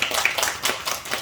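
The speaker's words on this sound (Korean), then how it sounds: "박수 칠 일이지" A church congregation at a Friday night service claps, a short burst of rapid, fairly loud hand claps.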